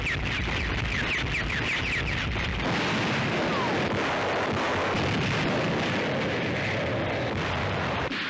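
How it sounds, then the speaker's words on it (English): US Army rocket artillery launching rockets against German targets in World War II, a loud, continuous roar of launches and bursts that fills the whole stretch, with a voice heard over it. "One control case sends any number of rockets on missions of destruction in the heart of Germany."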